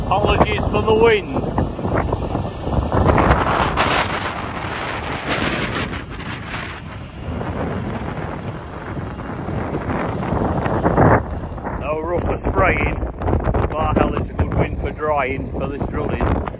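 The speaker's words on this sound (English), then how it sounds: "Apologies for the wind." Strong wind batters the microphone on a farm throughout, a constant blustery rumble with gusts rising and falling, while a person talks underneath it.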